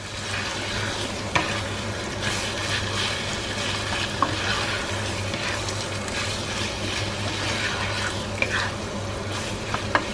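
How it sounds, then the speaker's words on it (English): Chicken stirred in a frying pan with golden-browned ingredients, a steady close sizzle broken by occasional sharp clicks of a utensil against the pan, with a low hum beneath. "I will add my chicken to it. Give it a good stir so everything is mixed well."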